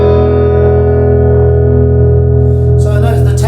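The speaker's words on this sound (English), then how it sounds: "Just getting quicker there on the tremolo" A held electric guitar tone through a Roland Cube 40XL amp, pulsing with tremolo that quickens toward the end, loud and continuous, with a noisy burst near the close.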